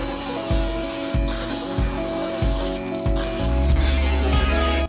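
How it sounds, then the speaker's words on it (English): A big 6-inch angle grinder with a cutoff wheel cuts through a high-clearance rear bumper, giving a loud, close, continuous grinding roar with rhythmic pulsing and a brief dip partway through. "grinder with a cutoff wheel. This is a big 6-incher, and it should be plenty to get through this"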